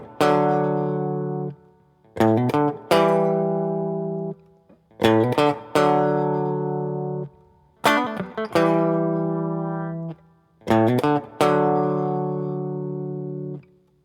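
Electric guitar plays a riff, barred chords with quick hammer-ons and pull-offs, a short phrase repeated about four times with gaps between, clean and close with no talk.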